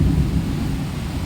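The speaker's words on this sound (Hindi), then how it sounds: "इतना तेज बादल गरज रहा है" During heavy rain, thunder rolls as a loud, continuous low rumble with a wash of rainfall noise, and no voices are heard.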